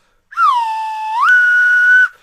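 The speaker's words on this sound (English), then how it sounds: "he will give you the whistle" A single clear whistle tone sounds alone for about two seconds, holding a steady pitch before sliding up to a higher sustained note and cutting off.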